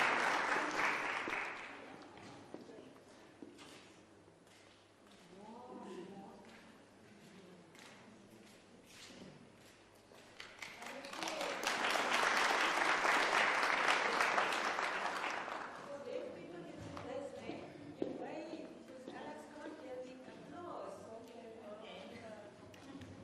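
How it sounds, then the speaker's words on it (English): An audience at a Casual Day 30th anniversary celebration and launch in South Africa breaks into warm, sustained applause that swells in the middle and tapers off, with a speaker talking before and after. "Let's give a warm hand of applause for Alex."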